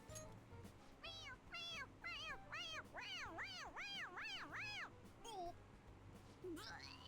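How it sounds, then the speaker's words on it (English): A stuffed toy cat in Persona 5 Royal meows each time its head is pressed, giving a quick run of about nine bright, bending electronic meows that grow louder, followed by a couple of fainter chirps. "It's a stuffed animal. Yeah, it's just a toy. It meows when you press on its head."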